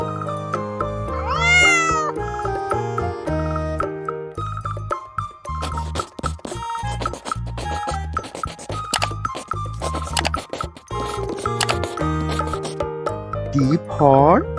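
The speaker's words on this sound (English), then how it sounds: "C for cat." A cat meows twice, once near the start and once at the end, over bouncy, upbeat music.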